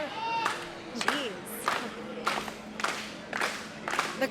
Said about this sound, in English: The crowd very much so getting behind this match. Various positive chants.